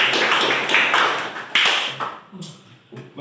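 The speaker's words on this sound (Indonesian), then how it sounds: "Nah, kita berikan aplaus untuk teman kita." Students in a classroom applaud a classmate with a short burst of scattered hand claps. The clapping is fairly loud and close at first, then thins out and fades away.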